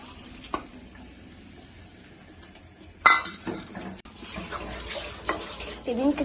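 Water from a stone mortar, used for crushing onion and ginger paste, splashes into a cooking pan with a sudden gush midway, then trickles on amid clinks of kitchenware.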